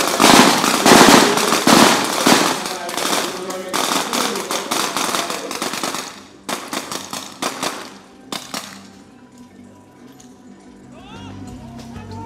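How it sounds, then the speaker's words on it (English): Rapid gunfire from a naval special operations demonstration, a dense run of loud cracking shots that thins into scattered bursts and fades out, with a commentator's voice heard over the firing. "The base of fire element engages the enemy."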